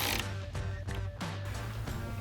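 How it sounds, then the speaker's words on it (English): A ratchet with a 13mm socket tightens a nut on a Jeep Wrangler JL roof rack bracket, giving quiet, irregular clicking strokes close by. "grab your 13mm socket, tighten down that nut"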